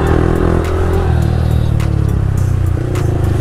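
Motorbike and car engines drone loudly and steadily on a road, with a rider's Yamaha R15M among the traffic as vehicles rush past close by, a continuous roar with brief clattering.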